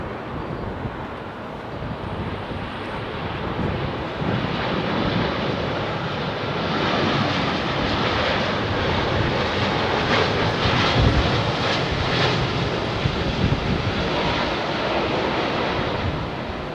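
Airliner landing on runway 27R at London Heathrow, a broad steady roar that swells gently and holds, mixed with wind buffeting the microphone, no voices.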